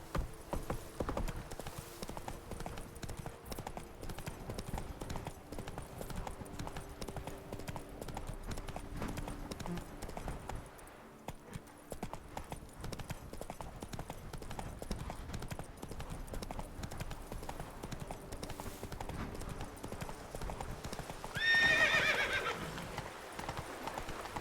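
Hooves clip-clop steadily as a horse gallops through the whole stretch in The Witcher 3, with a clear whinnying neigh rising near the end over the constant game ambience.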